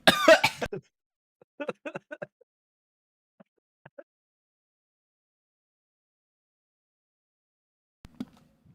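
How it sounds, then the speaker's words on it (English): Harsh coughing fits after choking on a sip of water, a burst of heavy coughs at the start, then a cluster of smaller coughs and a few faint ones, with a last cough near the end. "I'm coughing so hard."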